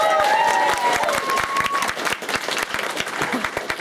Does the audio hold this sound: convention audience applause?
yes